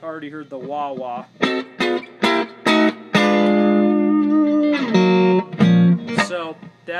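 Electric guitar played through a wah-wah effect, a run of short sweeping phrases and held notes with distortion and reverb, loud and close, alone with no talk.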